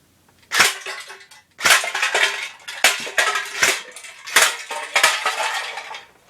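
An AK-74U airsoft gun fires on semi-automatic, sharp metallic clacks and cracks in spaced single shots and short clusters, loud and close, with no talking.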